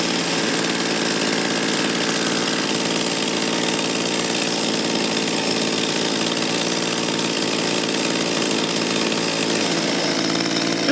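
A two-stroke engine runs steadily while it warms up. Its loud, buzzing, continuous drone stays even throughout with no speech.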